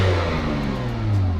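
A BMW 128i with a manual gearbox revs its engine, a steady loud mid-pitched drone held close by, with no voices over it.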